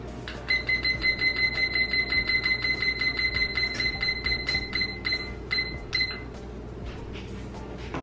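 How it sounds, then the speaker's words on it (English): A kitchen timer rings in a home kitchen while gluten-free cinnamon danishes bake, giving a rapid run of bright, even electronic beeps for about six seconds, with short gaps near the end before it stops. "Trusty timer."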